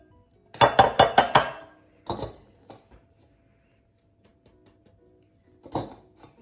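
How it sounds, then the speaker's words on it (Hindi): Dried carrot pieces for pickle tumble back into a metal pot with a quick rattling burst of clinks and knocks, followed by a few scattered taps and a final clatter a few seconds later. "अब इनको आप दोबारा इसी बर्तन में वापस डालें।"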